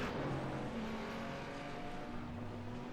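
A GT3 race car in a sim racing game pulls into the pits, its engine a steady, continuous drone with sustained tonal whine and shifting pitch throughout, with no talk.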